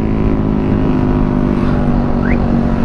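A 2019 Yamaha NMAX facelift scooter running at full throttle, its engine a loud, steady drone mixed with wind rush, with no talking.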